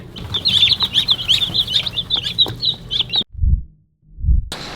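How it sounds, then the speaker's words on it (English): A flock of about twenty chickens clucks and chatters in a large coop, rapid overlapping calls that run loud for a few seconds, then stop abruptly before two low thumps and a brief return of noise. "But this is the 20 chickens."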